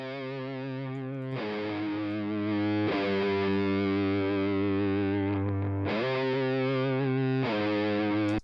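Electric guitar track bounced to audio in Logic Pro X, a sustained distorted chordal part with chorus-like shimmer, played continuously and loud with chord changes every couple of seconds, no voices.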